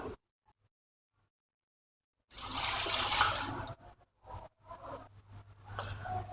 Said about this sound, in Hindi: और अब हम इसमें शामिल करेंगे पानी।